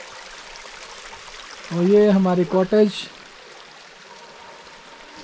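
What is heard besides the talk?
small river stream flowing water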